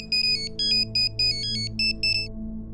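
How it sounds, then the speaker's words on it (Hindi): A phone rings with a bright electronic ringtone, repeating in short chirping bursts for about two seconds over a low steady background hum, then stops. "ए, चले जगदीश को फोन लगा।"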